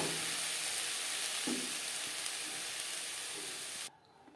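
Khesari greens mixed with bori in a pan, a soft steady sizzle with a couple of faint stirring scrapes, fairly quiet, that cuts off abruptly near the end.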